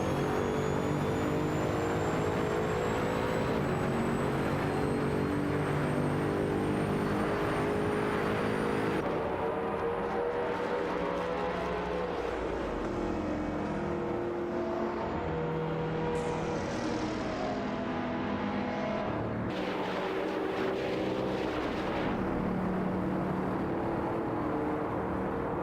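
Several race cars, including a Ferrari J50 and a twin-turbo Celine 7, drone steadily through a racing video game, engine tones rising and sweeping over a continuous loud bed of motor noise.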